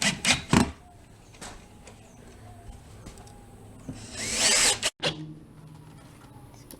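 A power drill drives screws into wood backing behind a sheetrock wall patch near a pipe, with a few short bursts early, then a longer, louder whirring run near the end, close by, with quiet gaps between.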